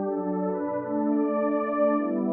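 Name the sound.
Xenology pad synth sound in FL Studio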